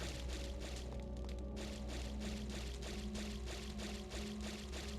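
Splashing through water in the Devil May Cry 2 video game comes as a rhythmic series of watery swishes, one roughly every third of a second, over a constant low hum.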